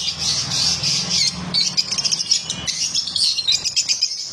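Several albino black-eye lovebirds kept at home squawk and chirp close by in a busy, overlapping chatter of sharp, rapid calls that rise in bursts throughout.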